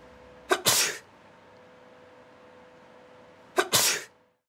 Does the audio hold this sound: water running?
no